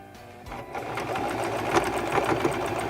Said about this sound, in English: we'll sew 6 to 8 stitches again